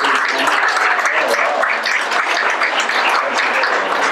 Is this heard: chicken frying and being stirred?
no